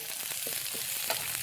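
Chopped desi garlic sautéing with onions in a hot pan, a steady close sizzle with light stirring scrapes running through, no voices.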